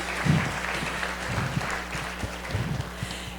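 Audience clapping fills a conference room after a group movement exercise, steady applause running throughout at moderate level with a few louder bursts.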